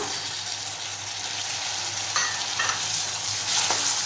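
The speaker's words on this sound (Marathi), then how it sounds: "परतवून घेऊया थोडंसं आपण मीठ घालूया म्हणजे आपले टोमॅटो लवकर नरम होतील" Onion and tomatoes sauté in a pan for spicy Maharashtrian prawn rice, giving a steady close sizzle with a few stirring scrapes and no talking.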